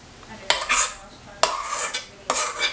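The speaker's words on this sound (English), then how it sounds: "I'm going to get me a spoon and get me some more fruit" A spoon scooping fruit filling for hand pies makes three distinct scraping, clinking strokes against a bowl, close and moderately loud, spaced roughly a second apart over a quiet background.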